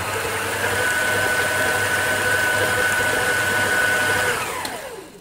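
A mixer churns baozi meat filling with sesame oil in a steady, loud motor whir that holds evenly for about four seconds, then winds down and fades at the end, with no talking.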